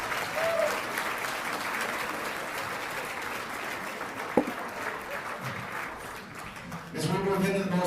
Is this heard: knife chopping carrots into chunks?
no